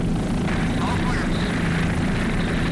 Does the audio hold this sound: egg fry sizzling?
no